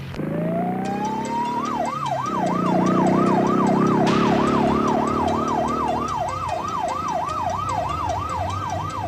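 A police car siren wails up and then settles into a rapid, repeating yelp, loud and close, over a steady rumble of traffic and a sharp electronic tone, with no talk.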